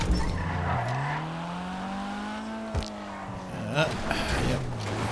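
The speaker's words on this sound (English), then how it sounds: "when you're skidding like that, you're not carrying any momentum" An LS-swapped car skids with tires squealing, a loud rising and falling pitched wail that holds for a few seconds, with engine noise and a brief sharp burst near the end.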